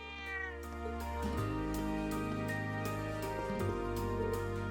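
Cats in the video game Trails of Cold Steel meow over music, repeated bright mewing calls layered with a steady tonal soundtrack, loud and close throughout.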